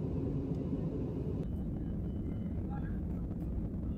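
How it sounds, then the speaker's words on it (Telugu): An airplane approaches an airport runway, heard as a low, steady, distant rumble under broadband noise. The sound stays even for a few seconds without a clear peak. "అక్కడ చూడండి మనకు ఫ్లైట్ వస్తుంది ఒకటి"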